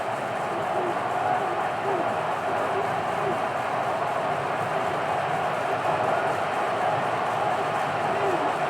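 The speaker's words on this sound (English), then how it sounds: "So this crowd is making their presence felt." The stadium crowd in the NCAA Football 13 video game, an Alabama versus Michigan matchup, is a steady, dense roar that holds at an even level throughout.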